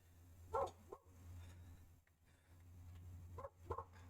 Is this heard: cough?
no